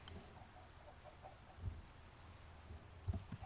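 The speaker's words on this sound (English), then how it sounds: "It's raining so much more than it ever was" Rain falls steadily in the video game Minecraft, a soft continuous hiss with a few low rumbling thumps, faint and with no voices.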